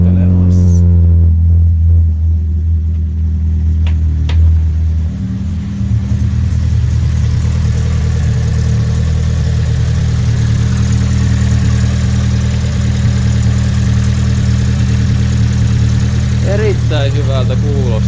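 Fiat Punto 75 engine fitted with a Colombo & Bariani Road Max camshaft, idling loud and close with a deep steady drone, a brief rev early on, and someone talking over it.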